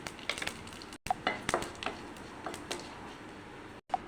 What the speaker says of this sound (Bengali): এবার 5 ফোড়ন আর তেজপাতা দিয়ে দিচ্ছি।